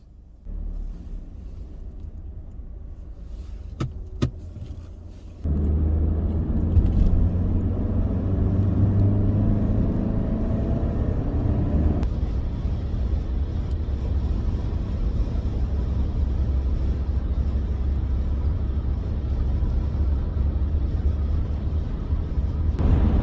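A car drives along the highway, interior road roar and engine rumble steady and loud after a brief quieter start, no voices.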